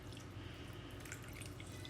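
Water, about two cups, poured into a pot of birria de res, a steady continuous splashing stream close by with no voices.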